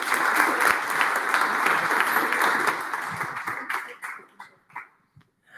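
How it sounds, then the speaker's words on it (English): Audience applause at a live startup pitch night, a dense steady round of clapping that holds strong for several seconds, then thins out and fades to scattered claps, with a dog barking faintly in the background. "just another round of applause for Altitude"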